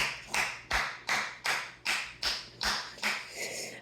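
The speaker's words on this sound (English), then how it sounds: "Round of applause, everyone. Round of applause." Single hand claps land at an even, unhurried pace, about eight sharp slaps in a row with a short echo after each. They are heard alone and sound more like one person clapping than a full audience.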